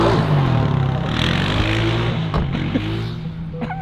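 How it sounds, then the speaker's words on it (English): A rental car engine runs in a small, isolated village, giving a steady close-up low hum with a slight rise in revs partway through. "This is the rental car."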